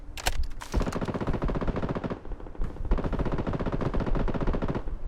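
Rapid automatic gunfire from the video game BloodStrike, with dense sustained bursts that pause briefly near the middle and then resume loud and close for several more seconds.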